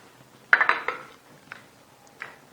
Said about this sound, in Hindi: सबसे पहले तमाम सब्जियां जो हैं एक बाउल में डालें